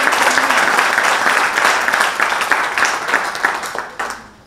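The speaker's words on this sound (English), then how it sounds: "can you clap for the" An audience applauds loudly and steadily at a youth event in Nakuru, a dense wash of clapping that holds strong and then tapers off near the end.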